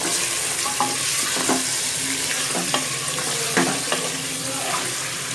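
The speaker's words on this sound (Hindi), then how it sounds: "अब इसमें मटन ऐड कर दें" Mutton pieces fry in hot oil with onions, a steady close sizzle broken by repeated scraping and clinking stirs, with no talking.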